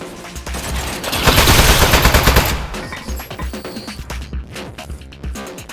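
A gun turret in the video game Aperture Desk Job fires a loud, sustained rapid burst for a couple of seconds, then breaks into scattered shorter bursts and clatter.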